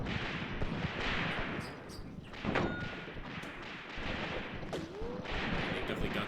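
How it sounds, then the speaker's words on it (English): Mortar fire and other battle gunfire in the Graviteam Tactics war game, a continuous dense barrage of booms and thuds with bursts of shooting and no clear pauses. "They've definitely got some mortar fire still."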